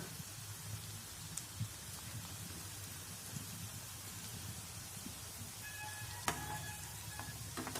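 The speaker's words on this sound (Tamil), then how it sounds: "இப்போ இன்னும் கொஞ்சம் போட்டு பொறிச்சுக்கலாம்" Cabbage pakoda frying in hot oil, a steady dense sizzle and crackle throughout with a brief sharper clatter near the end.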